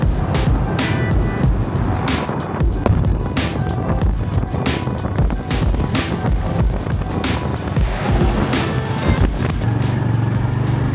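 A motor scooter engine strains under a heavy load on a road in Phuket, a loud, continuous, rough drone with wind buffeting that carries through the whole stretch.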